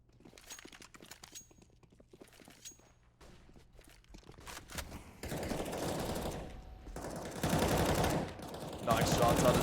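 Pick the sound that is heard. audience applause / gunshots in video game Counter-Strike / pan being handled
gunshots in video game Counter-Strike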